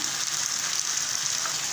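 Garlic sizzles and crackles in a hot pan, a brief, steady frying hiss heard up close without talk.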